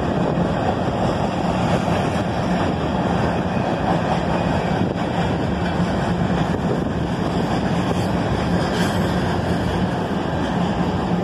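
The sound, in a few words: Norfolk Southern freight train passing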